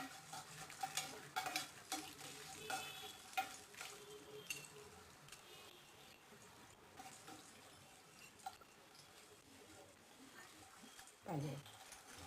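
Coriander seeds, cumin and dried red chillies tempering in hot oil for a coriander chutney, with a soft continuous sizzle and frying crackle, a few louder stirring clinks, and a brief burst near the end.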